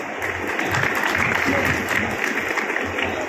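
A hall audience claps to welcome a senior literary figure and poet at an award ceremony held by a nature-friends committee, a dense, steady round of applause that carries on with faint voices underneath.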